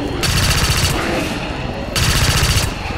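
Automatic gunfire in the video game XCOM 2, two loud, dense bursts of rapid shots at close range separated by a brief lull, with no talk over them.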